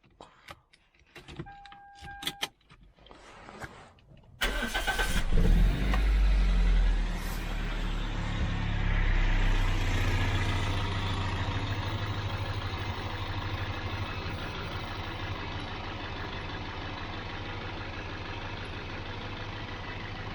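A 24-year-old Toyota MR2 with 130,000 miles, stone cold after sitting two weeks, cranks briefly, catches and settles into a steady, smooth idle that carries on loud and close to the end, with no talking.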